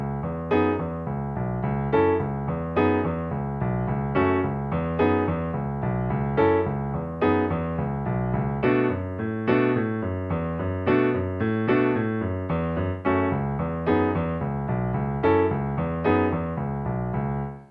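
Solo piano plays the verse and chorus of a song, a steady, rhythmic riff of repeated chords and bass notes, close and clear with no voices.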